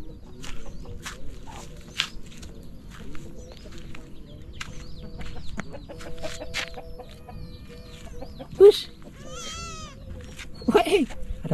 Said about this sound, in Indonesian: Soalnya ada ayam-ayamnya juga.